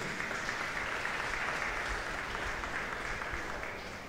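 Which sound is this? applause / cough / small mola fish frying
applause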